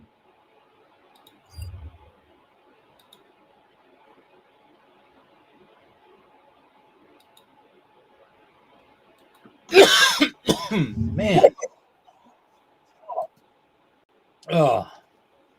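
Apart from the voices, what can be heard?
coughing fit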